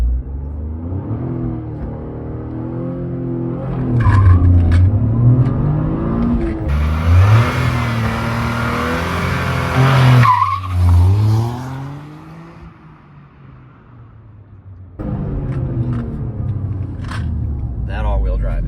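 A 2023 Toyota GR Corolla with all-wheel drive and traction control off launches from 5,500 rpm. The engine holds loud revs, then climbs through rising pulls with a rushing wind burst before easing off and picking back up.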